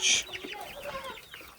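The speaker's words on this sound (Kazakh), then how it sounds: "Балапандарда енді ішінде әтеші бар, тауығы бар." This year's young chickens, a mix of cockerels and hens in a backyard coop, give a loud squawk up close, then soft scattered clucks and chirps that continue quietly.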